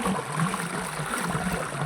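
Rainwater running into a farm field, a continuous gurgling, trickling flow close by at moderate level, steady throughout with no voices.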